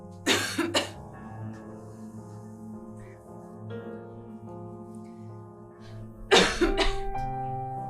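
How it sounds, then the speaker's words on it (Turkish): Two harsh bursts of coughing, one at the start and another near the end, loud and close, with a low humming background in between. "Nasıl öksürük böyle ya?"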